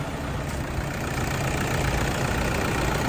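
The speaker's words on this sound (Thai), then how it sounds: "เดี๋ยวผมพามาชมสตาร์ทเครื่องให้ลูกค้าได้ฟังกันนะครับ สำหรับคันนี้ เสียงเครื่องนะครับดังนิ่มมาก" A Toyota Vigo Champ pickup with a 2.5-litre turbo diesel engine, factory original, idles steadily at close range with a low, even rumble and no talk over it.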